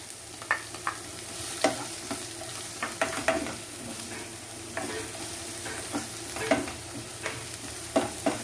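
Chopped onion frying with cardamom in a pan for mixed vegetable kurma, a soft steady sizzle broken by repeated stirring scrapes and clicks of a spoon, close and fairly quiet.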